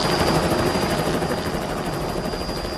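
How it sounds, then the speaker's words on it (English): A rescue helicopter lifts off during a flood rescue in Nigeria, its rotor thudding loud and close with a steady turbine whine throughout, unbroken and with no voices. "One man refused to let go, even as the helicopter lifted off."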